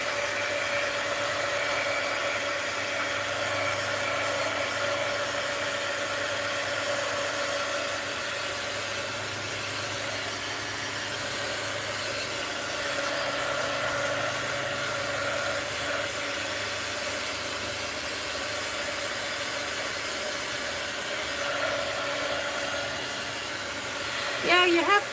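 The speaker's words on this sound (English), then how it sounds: "let's put the lid on my glue before I'm gonna heat gun my desk here" A heat gun blows continuously over a desk, a steady loud hissing rush of air with no break, ending in a short knock.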